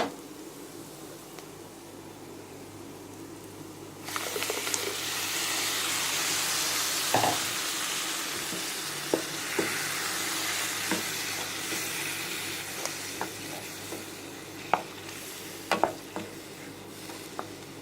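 Tomato paste sizzles and fries in a hot pan for a Tamil tomato kulambu, a steady frying hiss broken by repeated scrapes and taps of a spoon stirring it, close and alone with no talk.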